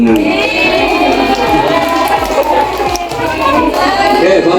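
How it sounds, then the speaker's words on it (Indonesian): Children at a fire station education visit clap together in applause, a dense, steady patter of many small hands filling the space, with some voices mixed in. "Tepuk tangan."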